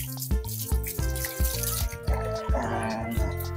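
Water splashes and drips steadily while a puppy is wetted for its bath, with irregular pouring and splattering in close, moderately loud bursts.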